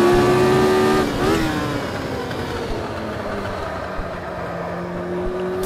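A car engine drops gears with a clutch blip, the pitch sweeping down sharply after a brief rev, then settling into a steady lower drone, loud and close with no talk.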